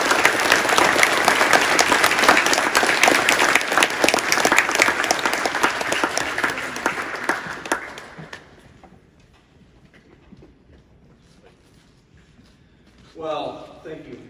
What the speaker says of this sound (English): would you please give me a big round of applause